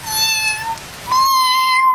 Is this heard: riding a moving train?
no